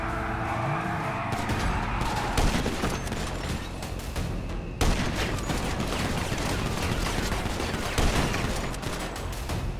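Rapid bursts of automatic gunfire and scattered shots in a video game played alongside police cars and a tank, crackling densely and loudly for about ten seconds with a sharp break midway and no talk over it.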